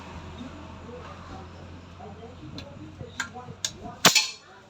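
Airgun shot fired while checking groupings, a sharp sudden crack near the end, preceded by a few faint ticks and clicks over a low steady hum, with people talking softly in the background.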